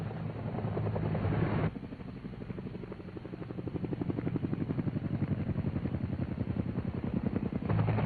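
Vintage 1970 Air Force UH-1 helicopter gunships in flight, a loud steady rotor thump and turbine drone throughout, briefly shifting in tone partway through, with no voices.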